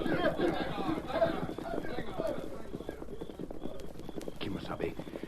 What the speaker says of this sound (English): Get on your horses.